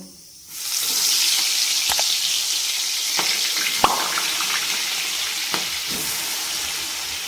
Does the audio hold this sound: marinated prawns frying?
yes